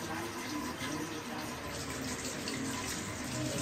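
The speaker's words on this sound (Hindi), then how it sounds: "टूटी चला लेते हैं" A kitchen water tap runs steadily in an outdoor village kitchen where chicken is being washed, a continuous broadband hiss of flowing water that stays near and even throughout.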